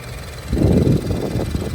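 A Nissan Rogue's 1.5-litre VC turbo four-cylinder engine idling, a steady low rumble with slight shaking that swells after a moment, heard close and alone.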